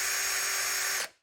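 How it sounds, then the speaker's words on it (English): A corded DeWALT core drill spins with a steady high-pitched motor whine for about a second, then winds down and stops abruptly. "So, this is the drill we're going to use."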